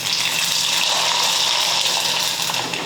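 Rice papad made from ration rice flour fries in hot oil, giving off a loud, dense, continuous sizzle and crackle close by, with no voices.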